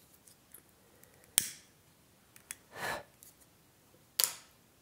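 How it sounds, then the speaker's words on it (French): Scissors snip through crochet yarn in a quiet room, with a few short sharp cuts standing apart, one of them a slightly longer swish. "Alors, le fil, je le coupe."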